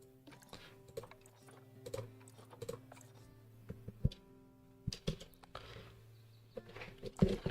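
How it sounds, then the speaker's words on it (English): Keys clatter on a computer keyboard in quiet, irregular bursts of taps and clicks, close and soft, with a low steady hum underneath during play of the Planet Zoo game. "Keyboard."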